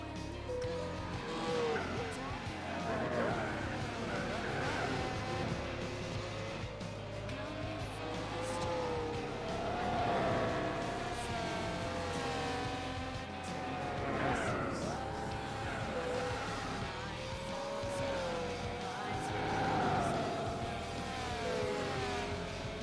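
Race cars in Gran Turismo 4, including a Supra and a Takata-liveried car, drone and whine continuously with shifting engine pitch and occasional tire squeal, a sustained layered engine roar throughout.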